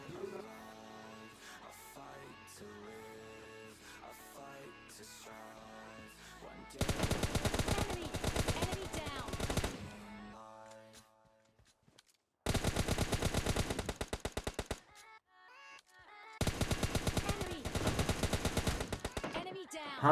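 Gunfire from the mobile shooter PUBG Mobile Lite comes in loud bursts of rapid automatic fire, separated by quieter stretches of game sound and music.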